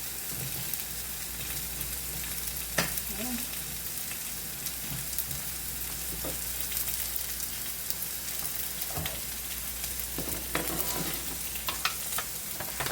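Steak and vegetables sizzle and crackle on a homemade hibachi, a steady close frying hiss with occasional scraping and stirring clicks, no talking.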